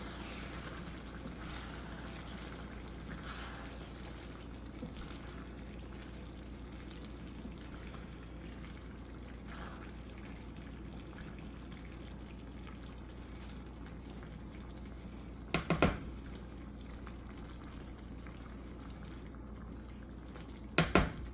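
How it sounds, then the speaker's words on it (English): Leftover rice and beans simmer in a pot over medium heat, making a quiet, steady low bubbling and faint sizzle. Two brief clatters, likely from a utensil, come near the end. "Now we're gonna let this simmer for 30 minutes."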